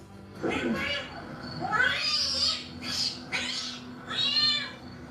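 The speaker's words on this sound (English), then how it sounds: "Still meowing." A cat meows repeatedly, four or five drawn-out, insistent cries close by, with short pauses between them.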